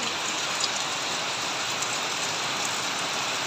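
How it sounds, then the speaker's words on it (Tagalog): Heavy rain pours steadily during a typhoon in Camarines Norte, a dense, even hiss of falling water that stays constant and fairly loud with no talking. "Lakas ng ulan."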